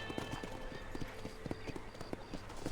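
Horse hooves clip-clop in a steady rhythm, close and distinct over a low ambient background, on a horse standing by a residence door in the Western video game Red Dead Redemption.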